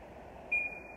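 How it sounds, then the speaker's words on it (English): A malfunctioning kitchen stove gives a single short electronic beep, a faint high tone over a low background hum. "My stove is malfunctioning. It's driving me nuts. Like, it beeps all the time."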